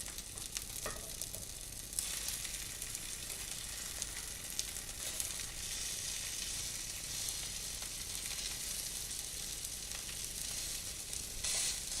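Lentil burgers sizzle and fry in a cast iron skillet, a steady hissing crackle held at an even level throughout with no talking.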